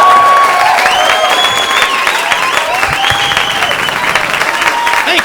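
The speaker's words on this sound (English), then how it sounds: "Please, a nice round of applause," A comedy club audience gives a steady, full round of applause and light cheering as comedian Paul Kozlowski is introduced, with sustained tonal sounds running through the clapping.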